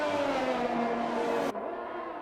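A rally car engine revs high and steady with a tonal whine, then drops abruptly as the throttle lifts, continuing at a lower, quieter drone.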